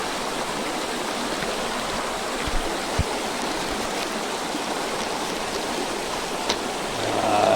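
A mountain stream in the Konkan hills rushing steadily, a dense even wash of flowing water with a few faint knocks and a slight swell near the end, no voices.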